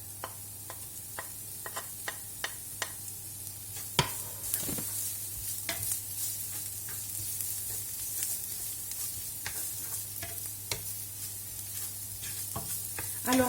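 Garlic sizzles with softened onions in a pan, a quiet continuous frying hiss with frequent light ticks and spoon scrapes, one sharper knock partway through, no speech.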